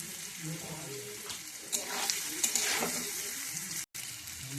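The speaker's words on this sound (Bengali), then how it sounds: "বেশি ভাজলে পনিরটা একটু শক্ত রবাটের মতন হয়ে যায় বলে হালকা ধরনের আমি ভাজবো" Paneer sizzles lightly in a pan with a little turmeric, a soft, steady hiss broken by a few sharp spatters and clicks, fairly quiet and close.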